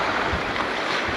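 Ocean waves at Roaring Beach, Southport, Tasmania, a steady broadband wash of surf mixed with wind buffeting the microphone, continuous and close throughout.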